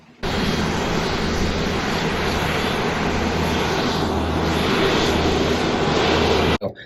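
Steady, loud aircraft engine drone fills the whole stretch, a continuous broadband roar with no pauses, as if heard from inside or close to a flying airplane.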